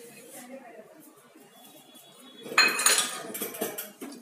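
A spoon stirs finished bottle gourd curry with kasuri methi in a metal cooker, giving quiet scraping at first and then louder, rapid clinks and scrapes against the pot, with a voice talking underneath.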